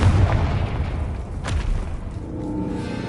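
A Confringo fire spell bursts in Hogwarts Legacy, giving one sharp booming blast in the middle of a low rumbling game backdrop.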